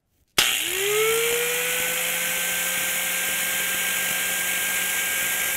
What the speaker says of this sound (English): Let's go ahead and run this power tool